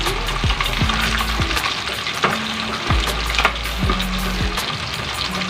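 Small fish frying in a pan of hot oil, a continuous crackling sizzle up close with occasional scrapes and clinks of a utensil against the pan.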